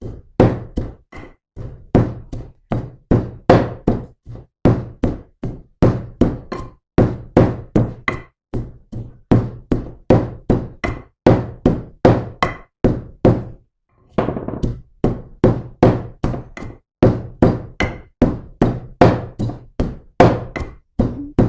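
Continuous rhythmic pounding of lemongrass with a pestle in a mortar, dull thuds repeating rapidly and steadily with a brief pause midway, close and loud.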